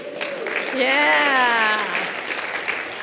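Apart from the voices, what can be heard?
audience clapping at a research slam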